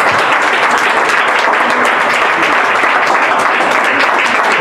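Dense, loud applause from a crowd greets a singer at a press conference, a steady roar of clapping with no break from start to finish.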